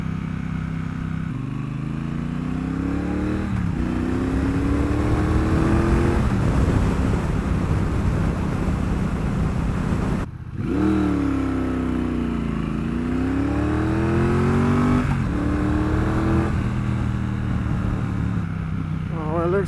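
Triumph Bobber 1200 motorcycle being ridden, its engine droning steadily with rising and falling pitch through gear changes and a brief dip in the middle, with wind noise throughout.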